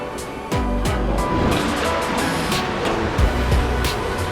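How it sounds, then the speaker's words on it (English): Ocean waves surge and churn into a sea cave on Oahu, a loud continuous roar with repeated heavy swells and deep thuds echoing off the rock. "the waves were starting to kick up"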